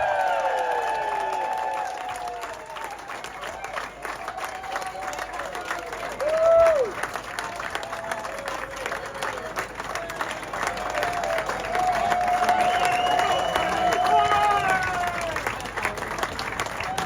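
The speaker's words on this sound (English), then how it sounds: "Can we get a better round of applause for the overall winner" A crowd at a yacht club sailing-regatta prize giving claps for the overall winner with steady, sustained applause, mixed with cheers and whoops from the gathered spectators throughout.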